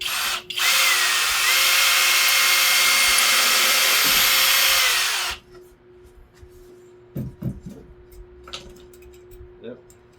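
A power driver whirs loudly and steadily for about five seconds while tightening a screw on a sandblasting cabinet, then stops. Afterward come scattered clicks and handling knocks, with a faint hum in the background.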